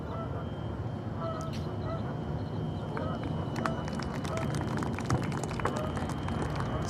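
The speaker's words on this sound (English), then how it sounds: "Sounds like the seagulls are enjoying the action out on the shores here at Liberty." Seagulls calling along the shoreline at Liberty during a golf tournament, a series of short, harsh squawks and honks at moderate distance over steady outdoor ambience, busiest in the second half.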